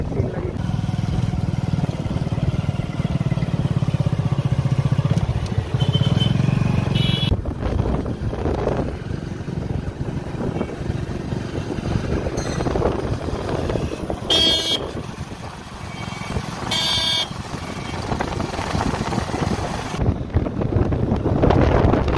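Steady engine drone and wind rush from a motorcycle riding through a village, continuous throughout, with brief bursts of higher noise and occasional faint voices.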